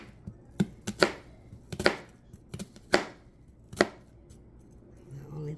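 A knife chops onion on a cutting board with about a dozen crisp, close thuds in uneven bursts, alone in a quiet room.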